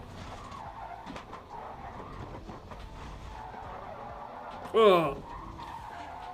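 Porsche race car on the Nordschleife sliding through a quick section, a sharp tire squeal bursting out near the end over a steady engine drone, with a brief exclamation from a voice.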